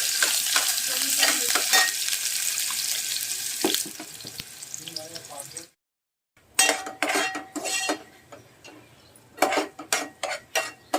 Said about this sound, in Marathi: आता बघा तेल घेतलंय, तर आपण कांदा घालूया